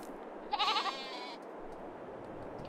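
A single sheep bleats once, close and clear, in the video game Farming Simulator 22, over a soft steady background hum.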